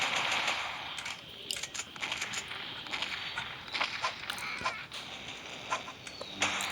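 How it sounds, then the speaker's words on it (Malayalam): Rapid bursts of shotgun fire and other gunfire from the mobile shooter game Mini Militia, loud and crackling, repeating in quick volleys over a dense noisy game soundtrack. "Oh shot gun shot gun."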